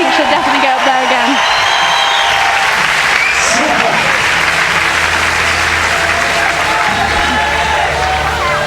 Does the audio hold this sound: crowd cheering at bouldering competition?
yes